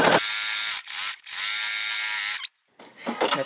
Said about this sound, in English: I'm going to sew straight down.